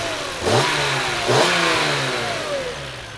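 A 1994 BMW M3 E36 engine with 170,000 km on it, revved twice in quick blips that rise and fall back to a steady, close idle, heard alone.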